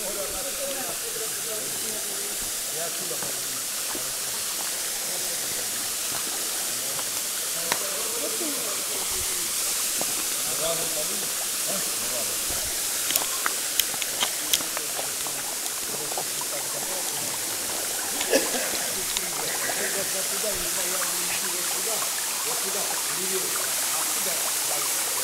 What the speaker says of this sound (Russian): 17 искусственных водопадов